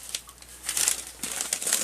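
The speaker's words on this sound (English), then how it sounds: "I can take the plastic bag off, the paper bag off" Paper bag crinkling and rustling as it is pulled off a dragon fruit seedling during transplanting, a few close, bursty crackles growing busier toward the end.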